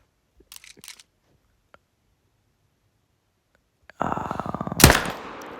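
A rifle shot in the hunting video game Call of the Wild: faint clicks, then a quiet pause, then a sudden loud, sharp report that booms and trails off into a rumbling tail.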